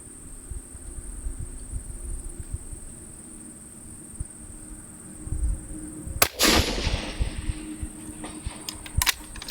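Rifle firing a contender load at a long-range target, one sharp crack in the middle heard from a distance, with another faint pop later, over steady insect chirping and low outdoor hum.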